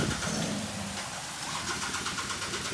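Used motorcycle from a dealer's leftover-stock sale runs with a steady, unbroken engine drone, close by and moderately loud, with no talk over it.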